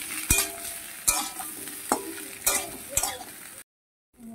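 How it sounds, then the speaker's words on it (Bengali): Raw banana, papaya and potato frying together in a pan, a steady sizzle broken by several sharp scrapes and knocks of stirring at roughly regular intervals, close and loud, then a brief silence near the end. "কাঁচাকলা পেঁপে আলুকে আর একটু ভালো করে ভেজে নেব একসঙ্গে।"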